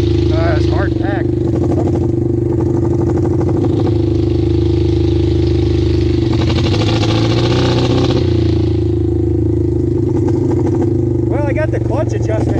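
A 1974 Honda CL200 motorcycle rumbles steadily while being ridden over rough, hard-packed ground, its engine note holding a constant drone with slight shifts in pitch, and someone talks over it throughout.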